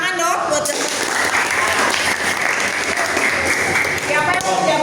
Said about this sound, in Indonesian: Oke, tepuk tangan dong buat